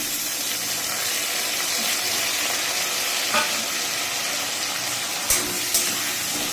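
Ginger-garlic paste fries in a pan over low heat for a fish-roe curry, giving a steady, dense sizzle. A few soft scraping knocks from stirring sound near the end.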